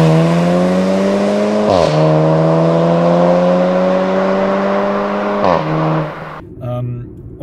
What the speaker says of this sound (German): ein Vierzylinder, 2 Liter Vierzylinder hat keinen guten Klang. Er ist einfach nur laut.